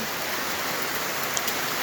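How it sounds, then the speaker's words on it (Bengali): Heavy monsoon rain pours down on a flooded ward in Jamalpur in a dense, steady hiss, an unbroken wash of drops close by. "বৃষ্টির অবস্থা দেখেন বৃষ্টি আরও জুড়ে নামছে"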